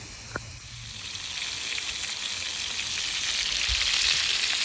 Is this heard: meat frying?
yes